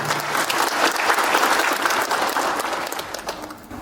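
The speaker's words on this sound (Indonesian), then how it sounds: "Berikan tepukan yang meriah." Loud, sustained audience applause filling a hall at a pharmacy college graduation ceremony in Padang, a dense continuous roar of clapping with no talk over it.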